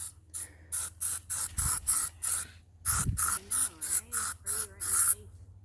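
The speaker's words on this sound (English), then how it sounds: "No, you just spray your body, not the tick." Repeated short hissing bursts of an aerosol spray can sprayed on a person's body, about a dozen quick spurts in an uneven rhythm, close by, with faint voices in the background.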